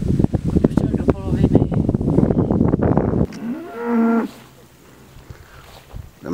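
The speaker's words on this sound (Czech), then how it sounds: "Jdeme kolem kraviček a ty roztomile bučej." Cows lowing beside their calves on an outdoor walk, with a loud, long moo rising clearly after noisy wind buffeting on the microphone, then quieter ambient sound.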